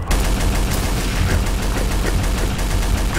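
Rapid gunfire from a multiplayer shooter game, dense and loud, with sustained bursts of automatic shots filling the whole moment without a break.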